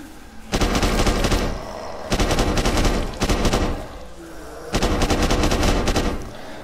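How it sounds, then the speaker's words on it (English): Gunfire from a shotgun in the game Deadland rings out in four loud, close bursts of rapid repeated shots, separated by short pauses. "Shotgun"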